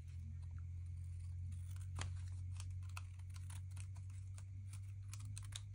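Scissors trimming excess paper doily: faint, quick snipping clicks in an irregular run over a low, steady background hum.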